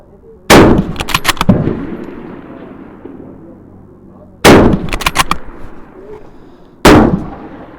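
Three loud, sharp rifle shots from a bolt action rifle crack out close by during a shooting challenge, spaced several seconds apart, each followed by a short echoing tail over quiet.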